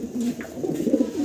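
A fancy female pigeon coos close by in a low, rolling, repeated burble that swells and dips, loud and clear with no talking over it.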